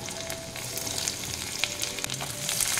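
Chopped garlic and ginger frying in oil on lowered heat for Bengali-style chilli chicken, a close, even crackling sizzle with a few stirring scrapes.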